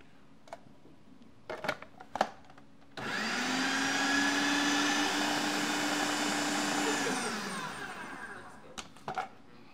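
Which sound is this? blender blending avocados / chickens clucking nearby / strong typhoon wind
blender blending avocados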